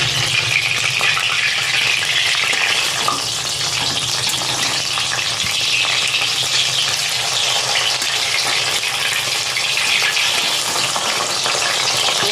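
Cauliflower paturi wrapped in bottle gourd leaves fries in hot oil in a hill village kitchen. It gives a loud, continuous sizzle with occasional stirring and a faint clink, and no one speaks.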